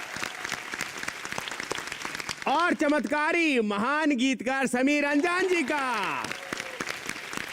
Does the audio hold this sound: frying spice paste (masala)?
no